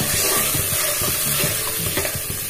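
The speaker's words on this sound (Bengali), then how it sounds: "এবার ভালো করে মশলাটা কষিয়ে নেওয়া হচ্ছে" Spiced yogurt masala with whole green chillies and a little water for katla fish kalia sautés in a pan. It gives a dense, continuous sizzle with rhythmic scraping strokes of stirring, close and loud, with no talking.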